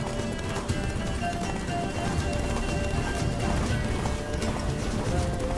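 Hooves of the horse Roach pound in a steady gallop in The Witcher 3 video game, a dense continuous clatter with game ambience.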